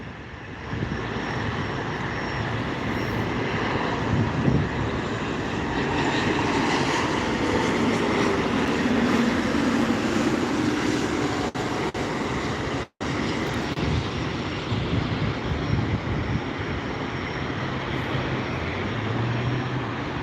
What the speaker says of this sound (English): arrival is another Dassault Falcon 7X this time